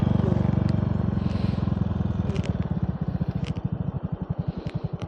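A motorcycle labors on a rough road, its engine chugging loudly in a rhythmic pulse that slows and strains toward the end, with scraping and rattling over the top.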